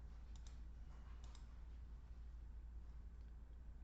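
A computer mouse gives a few soft, quiet left-clicks while dots are added in SmartScore 64 NE Pro music notation software. The clicks are spaced out over a steady low background hum.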